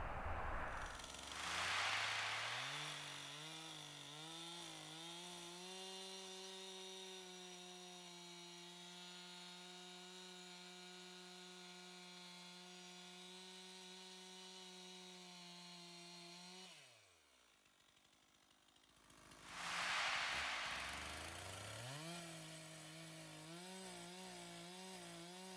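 A chainsaw revs up and then holds a steady cutting drone while rolling through a log for log home building, drops away briefly, then revs again near the end; loud and close, with no voices.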